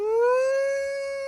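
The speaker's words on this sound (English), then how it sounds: "You're going to hear that scary doomsday siren." A single long, rising wailing siren tone, clear and steady, slowly swelling and then holding with a slight fade.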